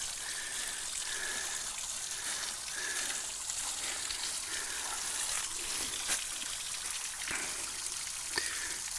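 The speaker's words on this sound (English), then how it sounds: "This is it's our little waterfall spot here on the trail." A small waterfall on the Pennyrile Nature Trail pours in a steady, close, hissing rush of falling water that runs unbroken from start to finish.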